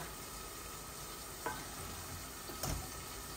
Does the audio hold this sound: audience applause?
no